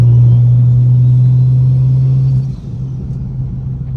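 BMW 335i with a big single turbo at 26 psi, manual gearbox, pulling hard after a shift from second to fourth: a loud, steady low engine drone and rumble that drops off sharply partway through, leaving a lower rumble.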